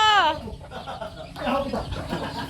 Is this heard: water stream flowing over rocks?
no